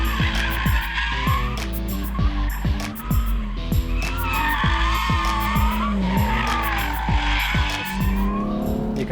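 A BMW 2 Series driven hard through a corner, tyres squealing loudly and continuously as the engine drones and revs, with rhythmic thumps running through the whole pass.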